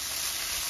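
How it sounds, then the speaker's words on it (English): Red and green peppers sautéing with shrimp in a hot pan give a short, steady sizzling hiss, close and even. "we're going to add peppers, the red peppers, green peppers, and we're going to add the shrimp. And we're going to saute this up for a few minutes"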